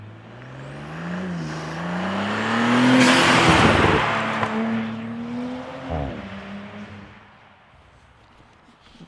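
A turbocharged Audi S4 B9 engine with an aftermarket intake revs up, its exhaust swelling to a loud rasping roar before settling back to a throaty idle, close by.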